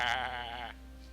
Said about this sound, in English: Yes, you can talk to the goat.